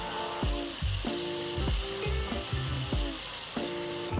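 Shrimp for a Cajun shrimp pasta sizzle steadily in a hot pan, with several clattering bumps and scrapes as the pieces are flipped and shifted around, close and fairly loud with no talking.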